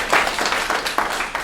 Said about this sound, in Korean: 맞으면 박수해 주세요.